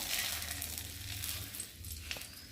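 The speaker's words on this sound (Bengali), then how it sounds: "কড়াতে তেল দিয়েছি আর এখন আমি ফোড়ন দেব" Bay leaf tempering sizzling in hot oil in a wok for shukto: a loud, close, continuous frying hiss with faint crackles, fading a little toward the end.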